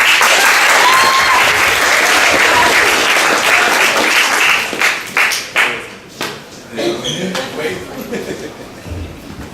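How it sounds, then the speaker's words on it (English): A comedy-club audience at the Tipsy Teapot breaks into loud, dense applause for a comedian, with some cheering mixed in. The clapping gradually thins into scattered claps before fading out. "I want y'all to give a big round of applause for my boy"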